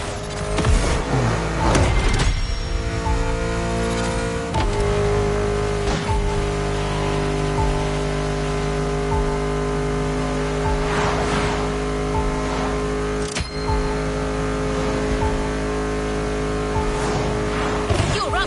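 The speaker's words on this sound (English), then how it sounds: "Kai got you your next killer partner, a 1970 Dodge Challenger" A 1970 Dodge Challenger's powerful engine roars and revs loudly and steadily in a video game, with brief tire squeals and shifts in pitch, close and continuous.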